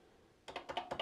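Keys on a Commodore PET 2001-N keyboard clatter in a short burst of about six quick presses, close and crisp after a brief quiet moment.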